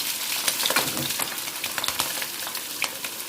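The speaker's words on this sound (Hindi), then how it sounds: "उसी ऑयल में मैं डाल दूँगी प्याज और लहसुन" Hot oil sizzling and crackling steadily as chopped onion and garlic fry in a pan, close up, with small pops and stirring.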